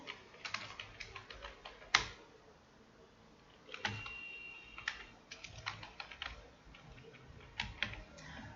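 Clicky computer keyboard keys tapped in uneven bursts of quick keystrokes with short pauses between, close and fairly faint, no voices.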